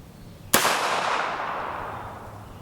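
A single sharp gunshot of subsonic ammunition fired through a chronograph cracks once and leaves a long fading echo that decays over about two seconds, loud and alone.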